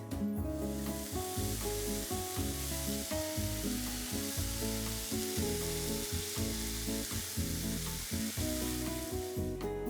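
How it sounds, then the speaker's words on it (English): Mushrooms and other ingredients sautéing in oil in a hot pan for meatballs, a loud close sizzle with rhythmic stirring scrapes repeating about once a second throughout, no voices. "we're gonna add our oil and a few other ingredients and saute those before we add them into our meat"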